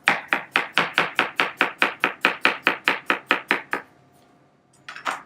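Knife chopping through stacked jicama slices on a board, about seventeen quick even chops in a steady rhythm, close and crisp, then a pause and a couple of softer knocks.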